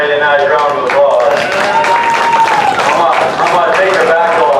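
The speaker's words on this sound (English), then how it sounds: "Let's give this young lady a nice round of applause" Crowd applause for a young exhibitor at a 2024 youth sheep show, steady and sustained clapping throughout, with an announcer's voice speaking over it.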